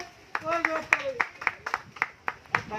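A small group claps for a prize winner at the end of a game competition, a run of sharp, separate claps at an uneven beat, close by, with people talking over them.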